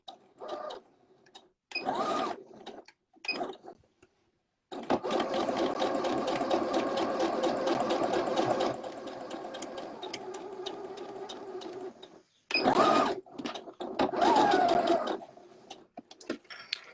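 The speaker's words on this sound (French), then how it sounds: "je vais venir faire un point avant-arrière pour débuter ma couture" A sewing machine stitches in short bursts and one long run, starting a seam with a forward-and-reverse backstitch, its rapid mechanical chatter loud and near, with brief pauses between runs and no talking.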